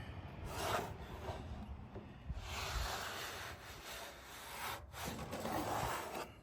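Hand plane making a shallow cut along the edge of a classical guitar soundboard, lifting fine shavings; a soft, continuous shushing scrape in repeated strokes, close and fairly quiet.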